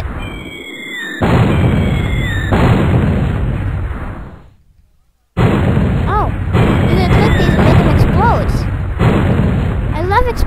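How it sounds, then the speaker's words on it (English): Booming explosion sound effects played from a website, several long rumbling blasts separated by a short silent gap, with whistling tones and a person's voice chattering over them. "Explosions."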